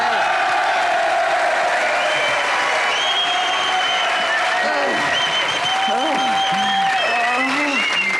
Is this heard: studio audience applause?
yes